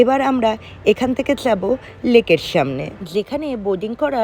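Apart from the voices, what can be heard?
No everyday noises stand out.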